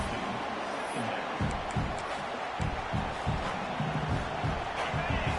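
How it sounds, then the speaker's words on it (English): A stadium crowd at a college football game against Kentucky roars as a continuous, broad wash of noise, with rumbling low thumps and scattered shouts rising from the mass throughout. "Listen to the crowd energy here in the early going."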